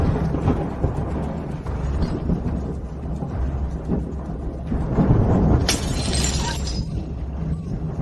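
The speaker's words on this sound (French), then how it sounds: "D'où venait ce tonnerre?" Heavy thunder rumbles loudly and continuously, and partway through a vase shatters with a bright, crashing burst of breaking ceramic, all near and without talking.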